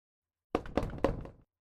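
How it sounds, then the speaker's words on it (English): Three knocks land on foggy window glass in quick succession, close and sharp, each followed by a short rattle. "3 knocks, louder than before, hungrier than before"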